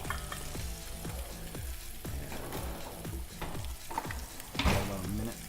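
Scallops fry in a pan with olive oil and lemon juice, a steady close sizzle broken by repeated scraping stirs and a brief louder crackle near the end.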